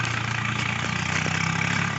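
A tractor engine idles steadily at a village fair, a continuous low mechanical rumble running loud and unbroken throughout with no talking.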